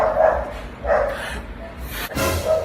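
Dog barks several times at a moderate distance outdoors, short bursts spaced about a second apart.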